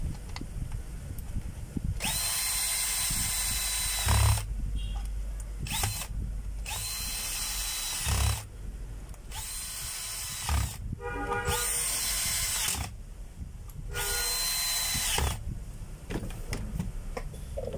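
A power drill driving screws while a tool is repaired: several loud whirring bursts of a few seconds each, close by, separated by short quiet gaps and ratcheting clicks.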